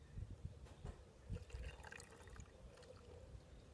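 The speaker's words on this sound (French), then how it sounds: "verser la solution de borax dans la solution de colle" Borax solution poured into a glue solution, a soft, faint liquid trickle with light splashes and drips over a few seconds, heard close with no speech.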